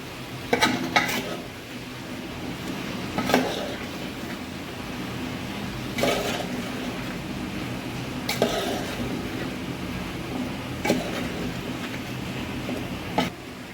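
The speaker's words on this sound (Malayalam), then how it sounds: "നല്ലോണം മിക്സ് ചെയ്ത് കൊടുക്കുക കേട്ടോ." A spoon stirs a star fruit pickle mixture in a pan with intermittent scraping clicks and a soft background hiss, no talking.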